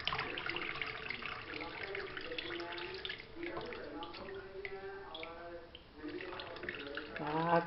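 Water draining from scalded cabbage in a kitchen sink, a continuous close splashing trickle that runs through the whole stretch with slight swells, while a person talks over it.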